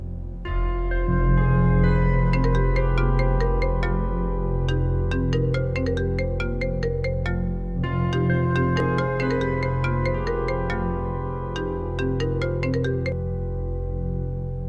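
Mobile phone ringtone ringing continuously indoors during a drama scene, a bright repeating electronic melody in bursts with a short gap midway, loud and alone.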